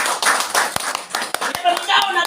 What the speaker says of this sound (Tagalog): Palakpak ka!